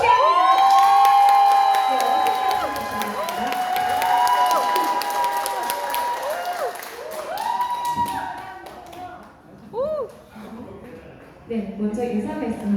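A crowd claps and cheers as a candidate is introduced at a party gathering, with loud applause and shouts under amplified speech and music, fading toward the end.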